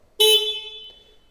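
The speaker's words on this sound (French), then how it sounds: "Vous avez l'avertisseur sonore juste en bas." A 2021 Triumph Trident 660 motorcycle horn gives one loud, close, bright honk lasting under a second, then fades quickly into silence.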